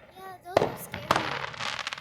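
Fourth of July fireworks burst outdoors, two sharp booming explosions close together followed by crackling, with spectators' voices audible in the background.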